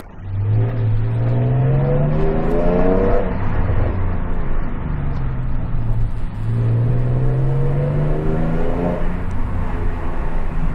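A 2009 Nissan 370Z exhaust revving in two long rising sweeps, each climbing steadily in pitch then dropping back, loud and close with a rasping, harmonic-rich tone.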